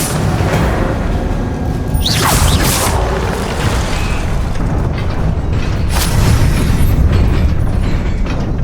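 An Incendio fire spell from the Hogwarts Legacy game lets out a dense, continuous roaring burst of loud flame and blasts, sustained throughout with a few sharper cracks.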